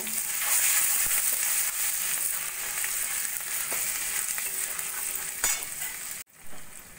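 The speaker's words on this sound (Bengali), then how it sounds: "সব দিয়ে একটু ভাজা ভাজা করে নেব।" Cumin powder, Kashmiri chilli powder, ginger and cashews fry in oil in a pan, a loud continuous sizzle with occasional stirring clicks before it cuts off abruptly near the end.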